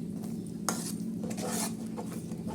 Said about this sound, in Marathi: कोथंबीर शिजण्यासाठी परत एकदा एक त्याला पलटी मारणार आहोत